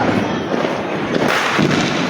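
Diwali firecrackers pop and crackle at close range, a busy run of sharp bursts over about two seconds.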